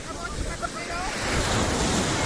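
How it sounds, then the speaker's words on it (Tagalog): Surf at Pagudpud beach, Ilocos, crashes and washes in a broad rushing roar that swells louder toward the end, mixed with blustery wind noise on the microphone. "Medyo malakas ang alon."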